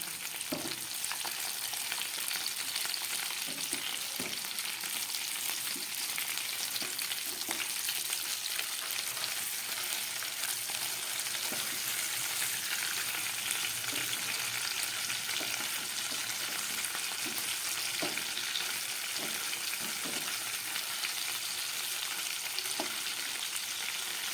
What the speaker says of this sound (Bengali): মাছগুলো আমার ভাজা হয়ে গেছে এক পিঠ। এবার উল্টে দেব।